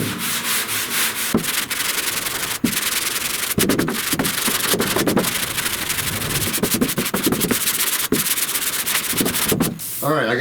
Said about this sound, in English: So let me sand a little more and see what I can do here.